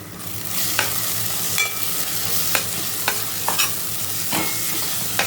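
Masala frying in separated oil while turmeric goes in for a chicken curry: a continuous close sizzle with occasional spoon scrapes and clinks against the pan as it is stirred, with no voices.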